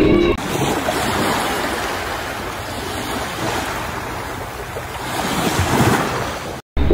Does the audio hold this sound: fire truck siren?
no